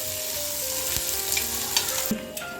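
Onions fry in a pan until brown, giving a continuous sizzle with a spatula scraping and stirring that adds a few louder clinks and scrapes near the end; nobody speaks.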